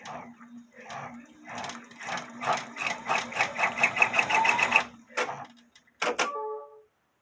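A sewing machine runs a dense satin stitch for an appliqué on a bodysuit, whirring in rapid bursts that stop and restart, with a short burst near the end and faint room hum under it.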